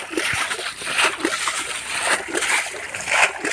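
Water falls and splashes steadily into a ditch during fishing for catfish in Assam, a continuous close sloshing spatter with a few sharper splashes.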